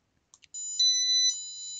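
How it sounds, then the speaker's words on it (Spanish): After a couple of short blips, an FPGA-driven electronic buzzer sounds a sustained high tone that steps up in pitch, then drops back down, alternating between two tones. "va a estar activado este tono que es el que se va a enviar al zumbador y se va a escuchar"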